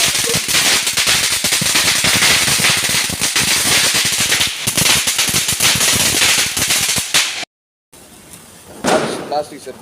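Diwali firecrackers burst in a loud, dense barrage of overlapping crackles and bangs. After a short silence, fainter pops continue with voices in the background.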